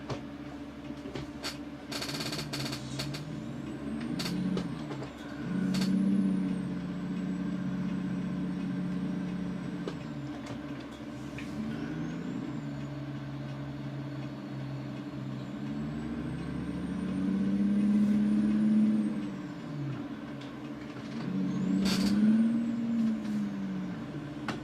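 A truck crawls slowly in low gear with its engine droning steadily, the low rumble rising and falling as it moves, and occasional sharp air-brake hisses break through up close.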